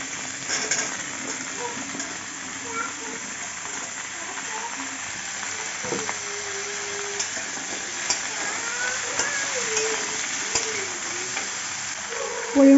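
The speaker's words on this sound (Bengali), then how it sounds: "এখন সব সবজিগুলো দিয়ে একটু ভেজে নেবো হালকা করে" Cauliflower stalks and mixed vegetables fry in oil, a dense and steady sizzle that runs throughout with stirring scrapes, and faint voice-like tones rise near the end.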